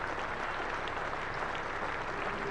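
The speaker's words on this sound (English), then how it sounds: "Plenty of applause there." Steady applause from spectators at Lord's during a Middlesex versus Leicestershire County Championship cricket match, a continuous even patter of many hands clapping at moderate distance.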